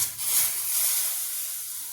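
Semolina mix tipped into boiling milk for caramelised semolina porridge and stirred, a soft continuous bubbling hiss with a faint scrape of the spoon, steady and close, no voices.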